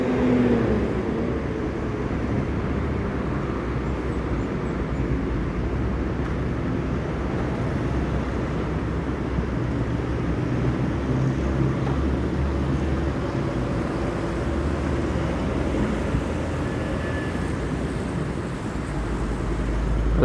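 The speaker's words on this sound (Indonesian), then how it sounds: "Langsung 3 unit konvoy bus Sumbar" Three Sumbar intercity buses in convoy, one NPM and two Tranex, roll past in a steady broad roar of engines and road noise that holds loud and even throughout, with no talk.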